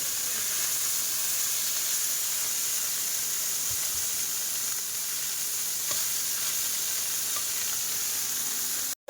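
Curry sautéing in a pan, a steady close hiss of sizzling oil that holds unbroken for several seconds and cuts off abruptly at the end.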